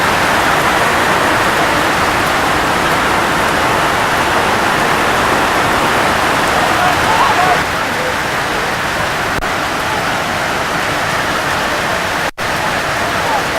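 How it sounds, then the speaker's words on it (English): Heavy rain pours steadily onto an outdoor football ground during a Friday night match, a dense continuous hiss filling the whole stretch with faint commentary voices beneath it. "it is bucketing down here"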